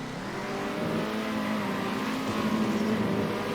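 Small toy-like race cars lap a circuit in the racing video game Circuit Superstars, producing a steady blended engine drone with a faint rise in pitch, moderately quiet and without voices.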